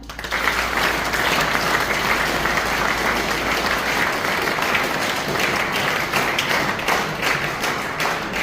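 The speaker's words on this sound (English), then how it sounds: "Can we all clap for them?" Loud, dense audience applause at a school Youth Parliament event, many people clapping steadily and continuously for the whole stretch with no speech over it.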